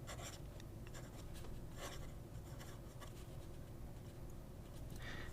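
An Asvine C2000 ebonite fountain pen with an italic-style nib scratches across Tsubame notebook paper, a close, soft, continuous rasp of strokes with brief pauses.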